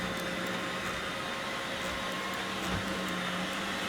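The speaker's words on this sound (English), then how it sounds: "If you can hear the vacuum, I got a Roomba going." A Roomba robot vacuum cleaner runs indoors, giving a steady, continuous whirring hum with a faint tonal whine that holds unbroken at moderate level throughout.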